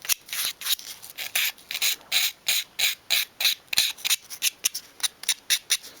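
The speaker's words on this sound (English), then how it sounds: "So I've got here a 500 grade sandpaper, and I've just cut it into a really small piece, and I'm just going to work it around the cut areas." Small piece of 500 grade sandpaper rubbed by hand on wood for a 1/12th scale dolls house kitchen dresser, a close, steady series of short rasping strokes in a quick even rhythm, with no talk.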